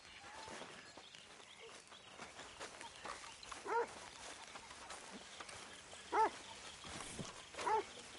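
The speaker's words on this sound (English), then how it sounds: "A dog!" Three short, fairly distant dog barks are spaced across a quiet outdoor scene in the video game Red Dead Redemption 2, over soft ambient noise with faint footsteps or hooves.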